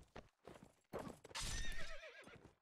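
Hooves clip-clop as a horse gallops in a video game, then it lets out a loud, wavering neigh; the clip is short and close, with no talk.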